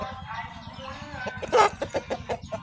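A Burmese fighting rooster on a gamecock farm gives a burst of clucks and throaty calls close by, following a low background hum with faint voices.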